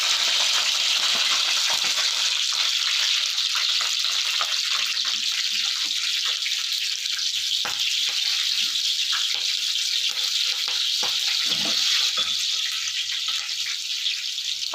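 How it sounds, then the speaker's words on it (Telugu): Green chillies frying in hot oil, a loud, steady, close sizzle with crackles and pops throughout. "ఆయిల్ అయితే వేడే ఫస్ట్ పచ్చిమిర్చి వేసుకోవచ్చు"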